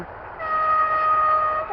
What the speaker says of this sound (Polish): I tam jedzie pociąg.